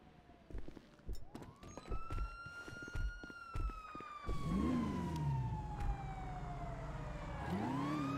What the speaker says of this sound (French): Ah, je rentends des sirènes.